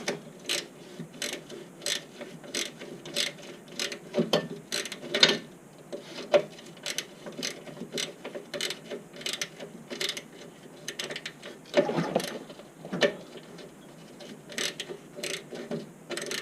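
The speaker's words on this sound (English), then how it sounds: "I'll lower the lift down and we'll pop that off." A car lift is lowered in a garage during a Mazdaspeed 6 front subframe job, with repeated sharp ratcheting clicks and mechanical clatter at an uneven pace, moderately close, no voices.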